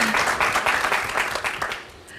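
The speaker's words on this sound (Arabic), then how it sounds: "تصفيق عليهم" Studio audience applauding a musical performance on an Algerian TV show, a dense wash of clapping that runs the full stretch and tapers off slightly toward the end, with a voice faintly under it.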